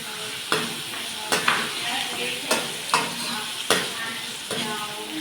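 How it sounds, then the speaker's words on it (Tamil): Tomatoes and onions sautéing in a pan with spice powders for tomato sambar: a steady frying sizzle broken by regular scraping stirs roughly every second, heard alone. "நல்லா தக்காளி, வெங்காயம் நல்லா வதங்கணும்"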